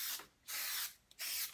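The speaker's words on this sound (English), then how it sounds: "shaking the spray adhesive" Spray adhesive hissing from an aerosol can during home screen printing, in two long close bursts and a brief puff between, with no talking.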